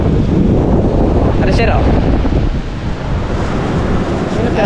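Sea waves and strong wind roar during typhoon season along the Philippine coast, a constant loud rush with heavy microphone buffeting, while people speak briefly over it.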